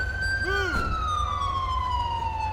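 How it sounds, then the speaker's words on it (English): A police siren in GTA V with the LSPDFR mod, a Collier County Sheriff unit, sounds as a steady sustained wail that slowly falls in pitch. A brief swooping yelp cuts in near the start, over a low engine-like rumble. "He's still got a siren going for some reason."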